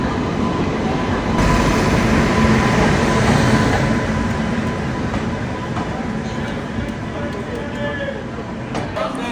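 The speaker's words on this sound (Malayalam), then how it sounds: "അപ്പോൾ ട്രെയിൻ സ്റ്റേഷനിലേക്ക് എത്തിക്കൊണ്ടിരിക്കുകയാണ്." Cuddalore Port Express, train number 16232, pulling into a busy station, heard as a continuous dense rumble of rolling carriages with faint intermittent clicks, while people talk in the background.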